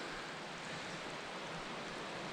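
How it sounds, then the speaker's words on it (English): Steady, dense rush of water running down a large smooth, polished shale slab in Montana's Mission Mountains, heard close and continuous as a broad hiss with no pauses and no voices. "A lot of water running down it."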